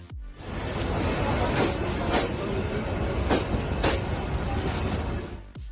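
A train rumbles past close by, a dense steady roar of wheels on rails with rhythmic clacks, rising in and fading out over a few seconds.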